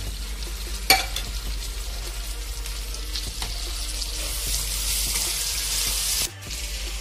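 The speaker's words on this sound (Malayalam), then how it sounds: "ചതച്ച് വെച്ചിരിക്കുന്ന ഇഞ്ചിയും വെളുത്തുള്ളിയും കൂടെ നമുക്ക് ചേർക്കാം. ഇത് നന്നായിട്ട് പച്ചമണം മാറുന്ന വരെ നന്നായിട്ട് വഴറ്റണം." Crushed ginger and garlic sautéing in a pan for fish biryani, a continuous moderate sizzle with a sharp clink near the start and a brief cutoff near the end.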